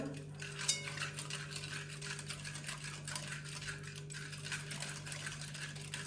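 A spoon stirs sugar and yeast in a bowl for soft pastry dough, with quick, steady clinking and scraping against the bowl over continuous low hum, close and fairly quiet.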